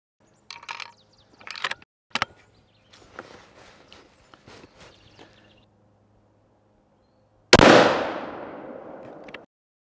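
A single 6.5 Creedmoor centerfire rifle shot rings out at ballistic blocks set 100 yards away on a shooting range, preceded by handling clicks and rustling, a sharp close blast with a decaying tail.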